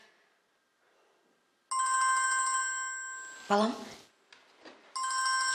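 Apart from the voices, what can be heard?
telephone ringing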